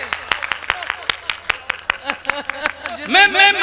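An audience at a Hindi kavi sammelan poetry recital in Pratapgarh claps in a steady, fast, even rhythm, sharp and fairly close, while someone speaks over the clapping and his voice grows louder near the end.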